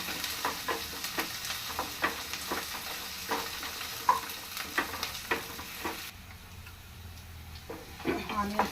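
Ridge gourd pieces and onions fry in oil in a pan until golden, with steady sizzling and repeated stirring scrapes throughout, near and moderately loud, before the sizzle drops away toward the end.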